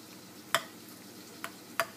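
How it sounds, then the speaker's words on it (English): A spoon stirring salt into a dolma filling for grape leaf dolma, with three sharp clinks against the bowl over a quiet background. "I'm going to put some salt and mix it"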